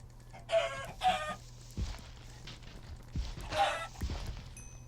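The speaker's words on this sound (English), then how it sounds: "But there's a lot of chickens." Chickens in a video game town, with a few bursts of clucking and squawks over a low steady game hum, plus soft footstep-like thumps in between.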